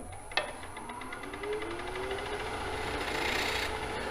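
Steady scraping rasp of a negative rake scraper against the bottom of a spinning wooden bowl, continuous and close, with a sharp click near the start and a rising whine underneath.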